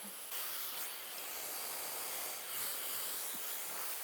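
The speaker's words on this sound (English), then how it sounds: "I'm blow drying on low right now a little bit so you can hear me talk" A hair dryer on its low setting, fitted with a wide concentrator nozzle, blows a steady close airy hiss throughout, even in level, with no talking.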